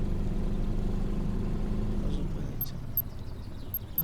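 A boat motor idles in the Fishing Planet game on the Dnipro river, a steady low rumble that fades out partway through, leaving quiet with a few faint clicks.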